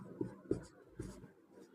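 Pen writing out a math solution on paper, a few faint scratchy strokes in short bursts, quiet and close.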